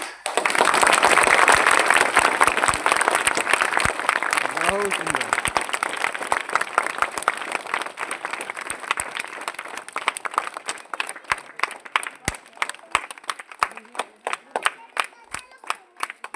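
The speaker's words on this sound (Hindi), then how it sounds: "ताली लगा उसके बाद सलामी देंगे।" A crowd at a school Republic Day (26 January) gathering claps loudly at first, then thins into scattered, sharp individual claps that fade toward the end, with voices faint underneath.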